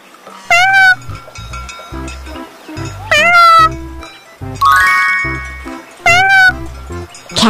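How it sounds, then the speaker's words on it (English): Cat meows, four clear rising-falling calls spaced evenly apart, loud and close, with light music and chimes underneath. "Cat."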